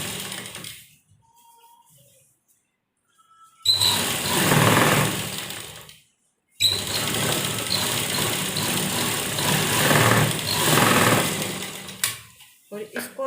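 A sewing machine runs in two long stitching bursts, about two and six seconds, sewing double stitches along the side seams of a blouse, with quiet pauses between and someone talking over it.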